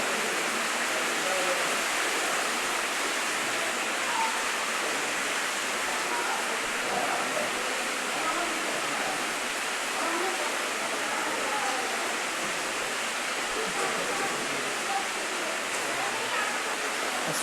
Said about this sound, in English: There's a stream of water going down here